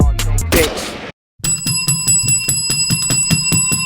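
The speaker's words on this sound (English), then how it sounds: "you know what it is when you hear that bell." A podcast intro opens with a short music burst, a moment of silence, then a bright metallic bell rings in a fast, regular series of strikes, loud and close, with nobody talking.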